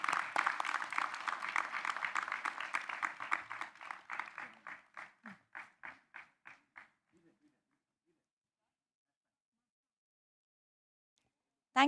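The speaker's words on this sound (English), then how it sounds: "Please give a round of applause for them." Audience applause at an international English language teaching conference, a dense crowd of clapping that thins into a few scattered claps and dies away after about seven seconds, leaving silence.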